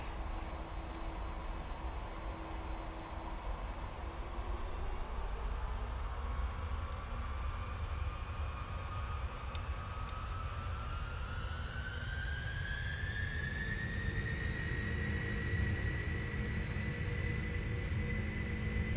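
A Boeing 747 roars steadily through its takeoff roll, a deep continuous engine rumble with a whining tone that climbs slowly in pitch as thrust builds, heard from inside the cockpit without speech.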